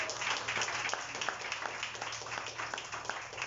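Applause from a church congregation is heard as a steady, moderately loud patter of many hands clapping, fairly even across the few seconds without any speech over it.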